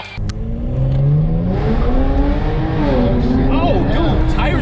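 A tuned G70 car engine revs hard and climbs in pitch as it accelerates, loud and close, with a brief tire squeal as the wheels break loose; voices call out over it.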